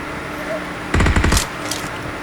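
A short burst of rapid gunfire in the PUBG Mobile battle game, a quick volley of several shots lasting about half a second, with a fainter shot or two after, over steady game background noise.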